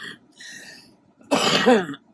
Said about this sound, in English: And the coughs